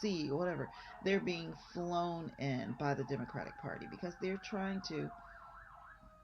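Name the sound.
sirens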